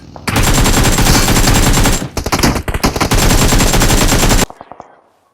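Cover fire in PUBG Mobile: loud, close automatic gunfire in long sustained bursts, a short broken stretch of shots in the middle, then a few trailing rounds before it stops.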